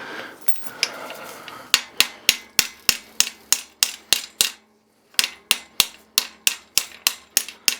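Hammer blows drive a press-fit square taper bottom bracket into a Gary Fisher Paragon bike frame, about twenty sharp, evenly spaced moderate strikes in two runs separated by a short pause.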